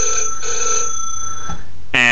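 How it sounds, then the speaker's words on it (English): A short telephone-ring sample plays from a Pure Data software sampler: a bright, steady electronic ringing tone, loud and close, that cuts off abruptly before a new harmonic tone starts. "and you hear a phone ring"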